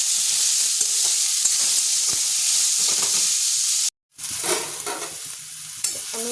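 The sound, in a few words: stirring banana stem in hot oil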